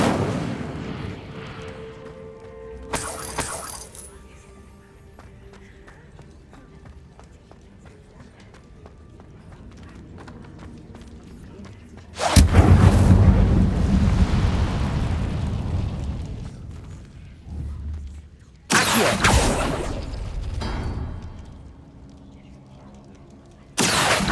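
Incendio fire spell cast in the video game Hogwarts Legacy, heard as several loud, roaring blasts of flame and impact over a background of game sounds, with the largest burst sustained for a few seconds midway.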